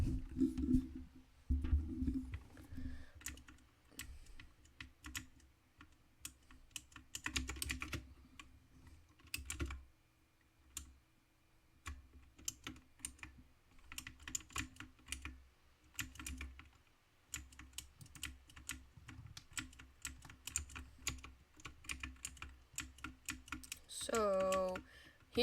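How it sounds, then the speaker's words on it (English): Loud computer keyboard typing during a game session, bursts of quick clacking keystrokes spread over nearly half a minute with short pauses between runs. "Sorry if my keyboard's a little loud."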